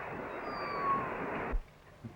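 A cat meows over a steady wash of background hiss; the noise drops away after about a second and a half, leaving near silence with a faint soft sound at the end. No one speaks.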